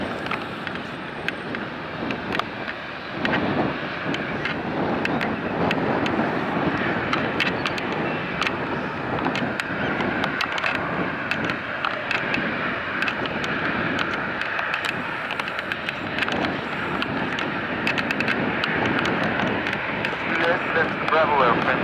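United Airlines Boeing 787-8 Dreamliner taking off from San Francisco International, a broad steady roar of jet engines with wind noise, while air traffic control radio chatter talks over it.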